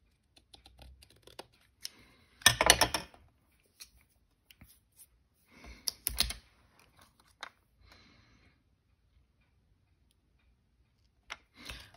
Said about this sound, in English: And then I can trim off the edge.